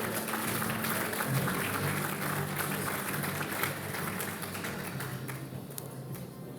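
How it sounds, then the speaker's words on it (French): Audience applause at an evening book awards gala as a prize presenter is called up, a dense continuous patter of many hands that fades slightly toward the end. "Vous pouvez l'applaudir."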